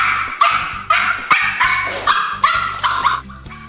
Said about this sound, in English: her barking continued